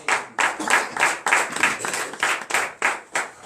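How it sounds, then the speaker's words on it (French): A congregation at a French-language morning prayer service in Benin claps in acclamation of the Lord, giving about a dozen close, distinct claps in an uneven, bursting rhythm. "Donnez l'acclamation au Seigneur."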